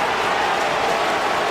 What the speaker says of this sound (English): Crowd giving Brendan the welcome.